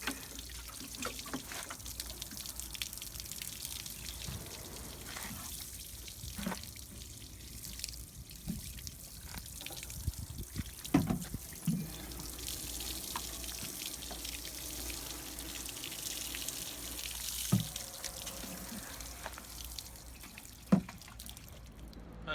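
Water sloshing and trickling as a bucket is poured over a motorcycle for a rinse, with irregular splashes and drips over a steady background hiss.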